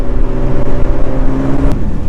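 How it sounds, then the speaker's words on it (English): A Ford GT MK II, 700 HP, on two-year-old tires launches from a stop, a loud close engine roar and revving whir with wheelspin in one short burst. "with the Ford GT, all you do is come to a complete stop, jam on the throttle. You can hear it going."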